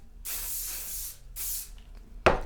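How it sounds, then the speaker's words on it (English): Hairspray hisses from an aerosol can onto hair while setting curled bangs, in two long sustained bursts followed by a short sharp spurt, close and fairly loud. "I'm going to take the hairspray and kind of lock the bangs into place"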